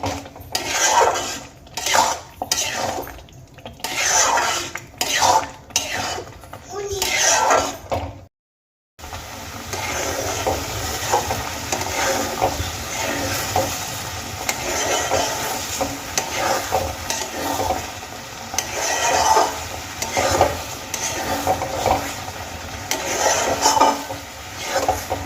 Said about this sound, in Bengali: চিনি আর হলুদ খুব ভালো করে আমি টমেটোর সঙ্গে মিশিয়ে নেব।